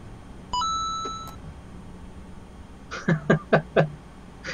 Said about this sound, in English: I had the little tone there from the follow notification